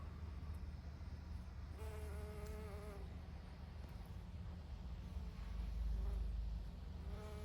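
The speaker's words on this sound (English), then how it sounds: "Got a cool little bee here." A bee buzzes among late-summer garden plants in a Michigan yard, a faint wavering hum that comes and goes in short bursts over steady low outdoor background noise.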